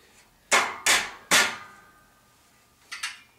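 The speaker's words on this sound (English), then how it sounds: "you'll just hammer that down" Three sharp hammer blows in quick succession, loud and close, knocking shelf parts into place on a water barrel tower, followed after a pause by a softer double tap.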